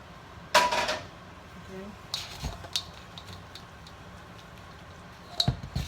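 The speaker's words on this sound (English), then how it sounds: "So this is our seafood, shrimp, crawfish, crab meat dressing mix going in the pan." A seafood cornbread dressing mix of shrimp, crawfish and crab meat goes into a cast iron skillet, giving a few soft, wet plops and light metallic clinks from a spoon against the pan, quiet and sparse.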